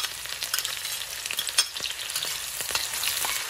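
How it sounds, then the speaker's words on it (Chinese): Scallion, ginger and garlic frying in oil in a wok: a steady, close sizzle with crackling pops and occasional scraping stir sounds, no voices. "在炒锅里倒入2大勺油， 下入葱、姜、蒜，"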